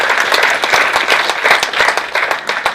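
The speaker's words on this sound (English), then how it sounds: "Round of applause." An audience at a recovery talk event in Richmond, Virginia breaks into a loud, dense round of applause, with many hands clapping steadily and close by for the whole stretch.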